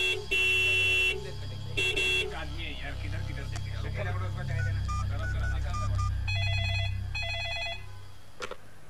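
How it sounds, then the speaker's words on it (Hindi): Car horn honking in short bursts, several loud blasts near the start and more later, over a low engine hum with indistinct talk in the background. "कब से हॉर्न बजा रही हूँ"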